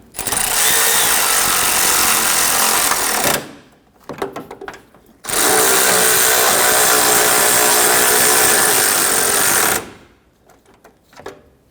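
A power tool tightens the two bracket bolts on a Honda Ridgeline headlight, in two loud, sustained whirring bursts with a quiet gap of small clicks and handling noises between them.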